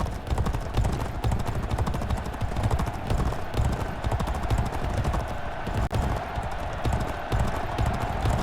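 Racehorses gallop in G1 Jockey 4, a steady, dense drumming of hooves on turf that continues loudly throughout, with crowd and race ambience filling the background.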